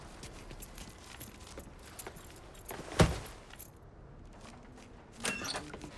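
Keys jangle in the Mafia III video game, a clear metallic rattle with a sharp burst near the middle and a smaller jingle toward the end, set against quiet room ambience.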